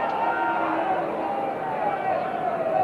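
A large rugby stadium crowd of well over 40,000 roars in a continuous, loud, full-bodied swell, with sustained voices and chanting blending into one unbroken wall of sound.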